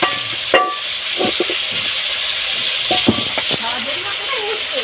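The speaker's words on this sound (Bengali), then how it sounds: "এবারে নুন দিয়ে ভালো করে এবারে ভেজে নেবো আলুগুলোকে।" Salted potatoes fry with turmeric in a pan, giving a constant close hiss. Intermittent stirring knocks and scrapes sound over it, and no one talks.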